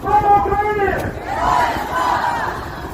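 A large crowd at a Ukrainian protest shouts and chants in unison, loud and close, with the voices swelling, pausing briefly, then rising again in a second rolling chant.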